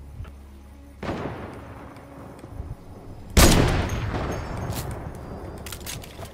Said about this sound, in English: he's got a heavy sniper too. He's gonna snipe.